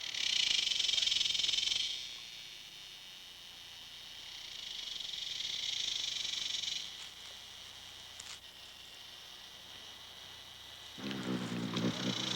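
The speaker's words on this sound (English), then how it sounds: "The buzzing cicadas make the spring air vibrate with their own rituals of survival and propagation." Cicadas buzzing in spring in the Grand Canyon, a high, steady droning chorus that swells and fades in waves, with a low rumble entering at the end.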